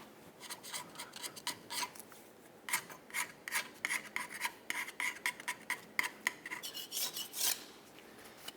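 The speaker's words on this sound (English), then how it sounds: "we remove any of the pre-existing gasket from this area. For that, you can use a scraper if necessary" A scraper removing old gasket material from a Ford F-150 rear differential casing, rhythmic rasping strokes in quick bursts with short pauses, close and fairly quiet, no talking.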